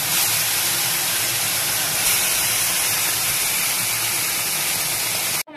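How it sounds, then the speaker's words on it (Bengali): Fish frying in hot oil gives a steady, loud, dense sizzle that holds evenly throughout and cuts off abruptly at the end. "এইভাবে প্রত্যেকটা মাছ মা ভেজে নেবে"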